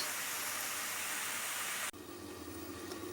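Broccoli being sautéed in a pan over very low heat makes a steady, close hiss of sizzling that suddenly drops to a softer simmer partway through.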